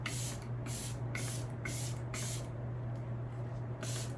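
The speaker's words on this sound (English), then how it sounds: "This is just the LYS setting spray." Repeated short hissing sprays from a pump bottle of LYS makeup setting spray, about eight quick bursts in a row over a steady electrical hum.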